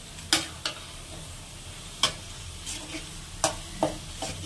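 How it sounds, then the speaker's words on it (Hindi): Masala spices being stir-fried and roasted in a pan with turmeric, a low steady sizzle broken by sharp, irregular scraping strokes of a spoon against the pan, with no talking. "मसाला को काफ़ी मिक्स करके भूजना है एकदम अच्छे से"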